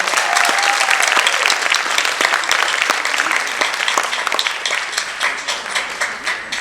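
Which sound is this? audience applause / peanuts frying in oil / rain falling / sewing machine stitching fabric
audience applause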